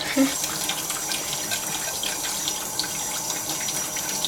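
A kitchen tap runs over a blown-out eggshell being rinsed, a steady close splashing stream of water with a brief clink near the start.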